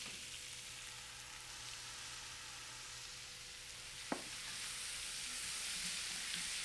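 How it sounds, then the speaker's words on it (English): A pan sizzles softly and steadily as it is deglazed with balsamic vinegar, a faint, even hiss with one small knock partway through and no voices. "I'm just gonna deglaze with a little bit of balsamic vinegar."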